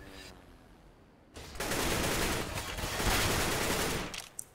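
AWP sniper rifle fire in a Counter-Strike match on the Cache map at a 2015 South American qualifier: quiet at first, then loud, sustained broadband blasts and noise from about a third of the way in, with a sharp final crack.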